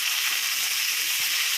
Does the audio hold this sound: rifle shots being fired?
no